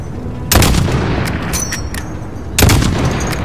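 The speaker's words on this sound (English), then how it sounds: "Alright, guess I'll shoot the tires then." Two loud, close gunshot volleys aimed at car tires in Call of Duty Modern Warfare (2019), each a sharp crack with a short ringing tail, about two seconds apart, with faint clinks and battle noise between.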